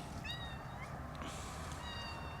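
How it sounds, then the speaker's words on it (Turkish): A young striped kitten meows several times in high, thin bursts over a steady background hum, close to the listener, with no talk. "Bu bizim çizgili kedinin büyük yavrusu."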